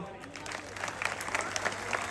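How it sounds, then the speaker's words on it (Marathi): A crowd claps at a traditional kusti wrestling bout at the Vairag wrestling ground, with scattered, irregular claps rising over steady crowd noise while a voice talks over it. "टाळ्या करा सर्वांनी."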